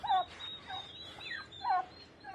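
Several bursts of gobbling from young turkeys let out to roam, close by, with pauses between the calls and a faint steady hum in the background.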